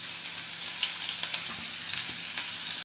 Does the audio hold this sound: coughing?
no